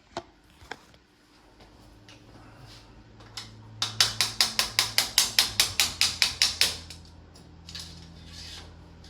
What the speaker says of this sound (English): So what I'm about to do is hit this T-wrench into that axle.